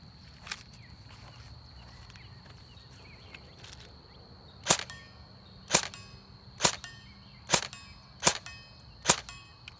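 An E&L AKS74N airsoft rifle with an M130 spring, run on an 11.1 V Titan battery, fires six sharp, evenly spaced shots in the second half, loud and close, after a quieter stretch of faint background noise.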